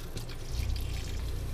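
Water running from the kitchen sink faucet of a Coachmen Mirada 32DS RV, fed by the onboard tank and water pump: a steady close pour and splash that swells slightly and then holds, with no voices.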